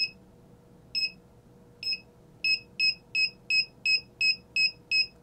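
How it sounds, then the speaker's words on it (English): An ESP32 car reverse range warning buzzer beeps in short tones, spaced at first and then quickening into a steady rapid series, clear and close over a faint electrical hum. "And the beep will speed up."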